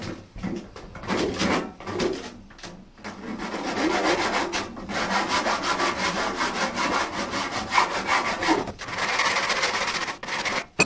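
A hand file rasps back and forth on a piece of wood being shaped for a weathervane, with steady close scraping strokes in bursts and brief pauses between, no talking.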